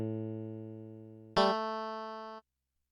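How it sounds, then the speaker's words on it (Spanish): A Roland JD-Xi synthesizer playing its Stratocaster electric guitar preset: a sustained clean tone fades slowly, then a brighter, louder note is struck and rings for about a second before cutting off abruptly, with no talking. "Es una Stratocaster, una guitarra eléctrica."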